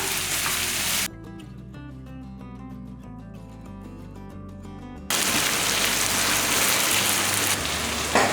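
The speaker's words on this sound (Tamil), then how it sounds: "இதெல்லாமே நல்லா சுருண்டு வதங்கணும் இந்த அளவுக்கு நல்லா வதக்கிக்கலாம்" Chettinad masala with tomatoes sizzles loudly in a pan for chana dum biryani, a dense steady frying crackle that gives way to music for several seconds before the sizzle returns.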